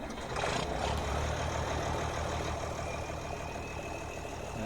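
A tractor engine in Farming Simulator 17 hums steadily at idle, with a short higher whine early on and no talk.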